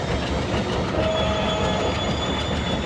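A WDM3D diesel locomotive in an Indian train simulation game rumbles along the track with steady rolling wheel noise, faint clicking over rail joints and a thin wheel squeal, loud and continuous without talk.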